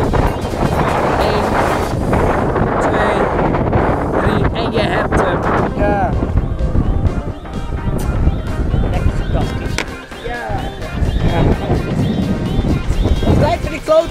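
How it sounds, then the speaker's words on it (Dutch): Strong wind buffets the microphone in a steady, loud roar near the sea, with people talking and calling out over it. "grote wind."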